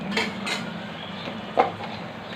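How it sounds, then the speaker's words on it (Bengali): Onion paste and mustard paste sautéing in a pan for mustard hilsa, with a steady low sizzle under soft spoon scrapes and light metallic clinks, one sharper scrape standing out near the end. "এখন কিছুক্ষণ এটাকে কষাবো পেঁয়াজ বাটা সরিষা বাটা কিছুক্ষণ কষাবো"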